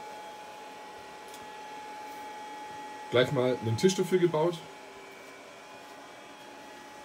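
A 3D printer running in a hobby workshop, a steady low mechanical hum and whir that continues throughout, with someone speaking briefly over it partway through.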